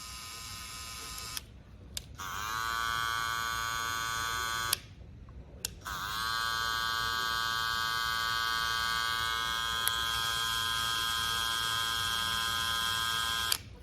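Steady electric buzzing hum from cordless BaBylissPRO hair clippers, switched on and off a few times with short silent gaps, then running continuously; close and fairly loud, no talking.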